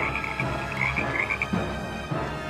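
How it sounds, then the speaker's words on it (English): Frogs croak close and loud in a dense chorus of rough, repeated calls, used as a sound effect in a retelling of the Ten Plagues of Egypt, with no voices present. "Then came the frogs"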